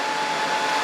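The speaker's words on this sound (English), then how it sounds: "Sorry for the noise, guys. The welder is actually cooling down," A welder runs while cooling down in freezing outdoor cold, giving a steady, broad, hissing drone with no breaks over a short span.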